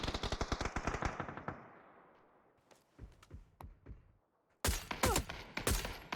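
Rapid bursts of automatic gunfire in a PUBG match, a loud fast string of shots tailing off into echoing scattered reports, then another dense close burst.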